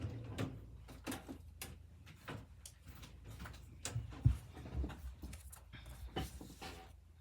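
A drawer slides open or shut in a home sewing room, giving a few soft knocks and rattles around the middle of the stretch, faint and close by over quiet room noise.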